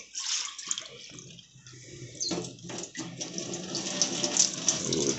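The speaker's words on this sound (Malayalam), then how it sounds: "എൻ്റെ കയ്യിലോട്ട് വെള്ളം ഒഴിക്കാനാണോ പറഞ്ഞത്" Tap water runs and splashes steadily onto a hand at a sink, a continuous close hiss with brief shifts as the flow is interrupted.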